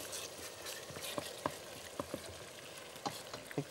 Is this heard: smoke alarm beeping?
no